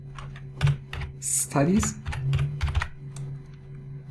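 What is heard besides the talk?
typing on a computer keyboard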